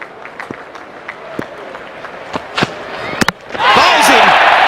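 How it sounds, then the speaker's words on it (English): Adelaide Oval cricket crowd in England–Australia Test match roars after a wicket falls, a loud sustained broadband cheer swelling up near the end, with scattered claps and thumps before it. "Listen to the Adelaide Oval crowd."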